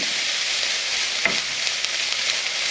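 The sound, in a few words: beef mince browning in pan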